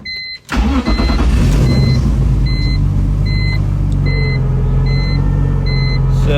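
A BMW E46 engine with a throttle pedal position sensor fault runs as a loud, steady drone that does not rev up, while an electronic warning chime beeps repeatedly and evenly inside the car.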